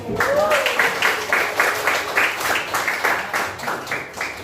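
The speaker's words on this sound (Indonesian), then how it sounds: "Sebelum kita tutup, mari kita berikan aplaus dulu untuk semuanya." Applause for everyone at the close of a classroom lesson, a steady wash of many hands clapping for several seconds at a fairly loud, even level.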